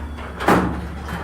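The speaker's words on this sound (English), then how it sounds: "Noisy garage door." Garage door at a home garage shutting, a single loud thump and rattle rising out of a steady low background hum, then fading back to quiet.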